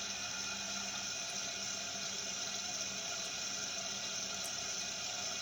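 Water runs in a steady hiss while a hair transplant patient's head is rinsed, faint and continuous with no talking.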